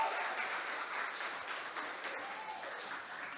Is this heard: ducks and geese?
no